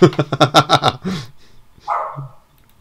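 A dog barks in a rapid burst of about six sharp barks, fairly close, followed by a brief pause and a single lower woof.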